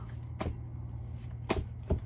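Tarot cards are shuffled in a few separate soft, papery bursts, close by and moderately loud, set apart by quiet gaps over a faint low hum, with no talking.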